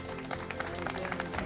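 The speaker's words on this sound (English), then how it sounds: "Could you clap the bride?" Wedding guests at a small COVID-era ceremony in Jamaica applaud the bride, producing a brief, light smattering of hand claps from a modest group, steady and close.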